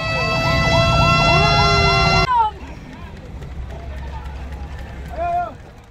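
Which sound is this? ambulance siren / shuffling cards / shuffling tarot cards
ambulance siren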